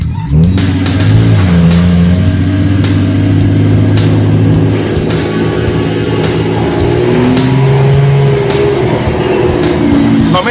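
A car engine running after a fuel pump fix, revving hard up close. Its loud tone rises and falls in repeated surges, with sharp clicks and squeals scattered through.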